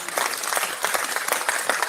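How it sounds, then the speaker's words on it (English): An audience applauds for a speaker during a livestreamed show, a dense burst of clapping that holds steady and close for under two seconds. "Round of applause."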